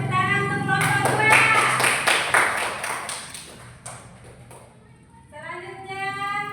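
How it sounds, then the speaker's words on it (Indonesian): A small classroom group claps a few quick, rhythmic strokes close by, with voices heard before and after the brief clapping. "Tepuk tangan untuk kelompok 2."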